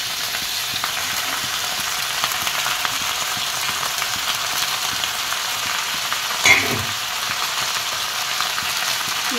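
Duck meat frying over softened onions in a pan gives a steady, dense sizzle throughout, with one brief louder clatter of a utensil or added ingredient partway in, and no voices.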